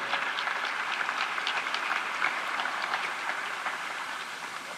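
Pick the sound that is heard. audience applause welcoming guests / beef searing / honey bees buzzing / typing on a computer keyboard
audience applause welcoming guests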